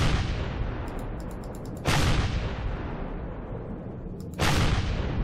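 Two heavy gunshots from the sci-fi survival game Empyrion boom out a few seconds apart, each with a long rolling decay, while faint quick ticks sound in the background.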